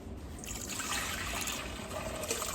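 Water poured into a mixer full of bubble bath for homemade bubble foam, a steady soft trickling and splashing rush lasting a couple of seconds, close and fairly quiet with no talk.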